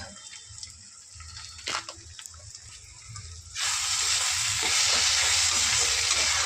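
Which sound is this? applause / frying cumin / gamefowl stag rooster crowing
frying cumin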